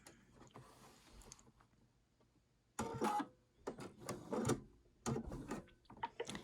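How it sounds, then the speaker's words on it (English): A sewing machine stitches a quilt block seam from dot to dot through the center, in dark thread. After a quiet start, it runs in three bursts of close, busy mechanical whirring and clatter separated by brief pauses. "I'm sewing from dot straight through the center to dot"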